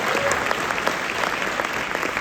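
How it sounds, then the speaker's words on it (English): A crowd applauds steadily, dense clapping filling the room at a fairly loud, even level throughout. "let's give that a round of applause"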